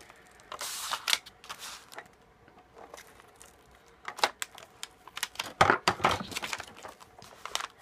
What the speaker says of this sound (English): So I go around really close to the outside three edges with my tape gun.